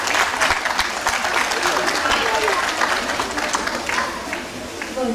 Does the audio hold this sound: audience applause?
yes